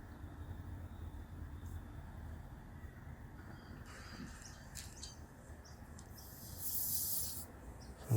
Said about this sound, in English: Again, we'll be using a bit of heat and a bit of steam.